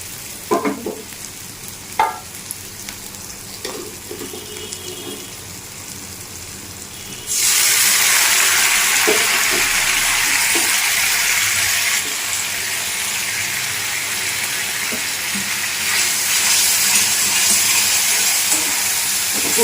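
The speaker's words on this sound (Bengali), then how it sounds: "এরপর এতে সামান্য পরিমাণ গরম জল" Hot water poured into chicken masala frying in a pan sets off a sudden loud, broad sizzle and hiss of steam that continues steadily, following quieter stirring and light clinks.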